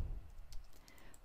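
Keys clicking on a computer keyboard as a title is typed, a quick run of light, close taps over a short stretch.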